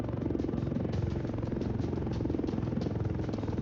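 Helicopter in the Roblox War Tycoon game, a steady rapid rotor chop with continuous engine drone, fairly quiet and uninterrupted.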